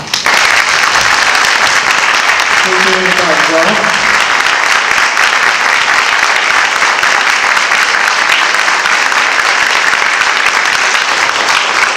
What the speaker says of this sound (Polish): Te Państwa brawa są najlepszym wyrazem tego, że to dzisiejsze spotkanie jest bardzo udane.